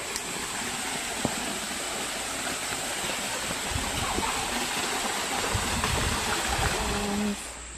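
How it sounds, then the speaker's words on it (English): Steady rushing water of a waterfall at Paronella Park, a constant broadband roar close by, with faint voices and scattered small sounds underneath. "There's more waterfalls."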